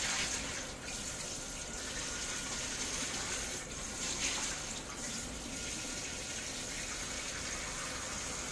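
Tap water runs steadily into a bottle in a kitchen, a continuous even gush and splash with no pauses, moderately quiet and close, with no voices.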